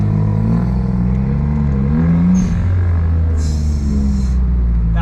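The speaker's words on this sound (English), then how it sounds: "You guys heard the exhaust." A JDM sports car's exhaust drones low and steady, then swells briefly as the engine is revved toward 3,000 RPM before settling back to a deep rumble.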